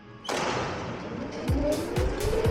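Go-karts launch together off the starting grid at an indoor TeamSport track in Warrington: a sudden loud rush of engine noise, with several rising whines and tyre scrabble running continuously and close.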